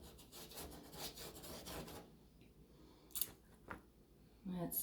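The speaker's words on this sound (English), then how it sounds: "So you roll and you scrub." A paintbrush rolls and scrubs paint onto canvas in quick rhythmic rasping strokes for about two seconds, then falls quieter, leaving a few scattered soft brushing sounds near the end.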